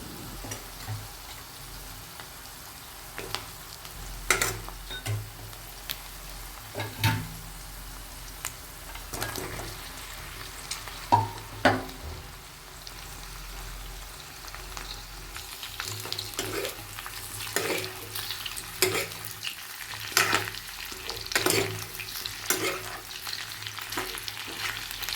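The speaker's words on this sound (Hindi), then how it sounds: "अब मैं पोर्क डाल देती हूँ।" Pork frying with softened onions in a pan, a steady low sizzle under irregular scraping and clinking as a spoon stirs the mixture, close and continuous for about 25 seconds with no talking.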